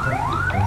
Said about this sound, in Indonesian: Saya belum matikan sirine